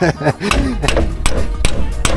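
Sharp hammer blows strike metal while a badly rusted Ford Bronco is repaired in a garage, several loud, irregular hits over a couple of seconds with a low voice briefly heard.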